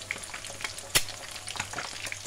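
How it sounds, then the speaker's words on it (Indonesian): Eggs fry in hot oil in a pan for nasi goreng, crackling in a busy, uneven sizzle with scattered sharp pops and one loud spatter partway through. "goreng telur."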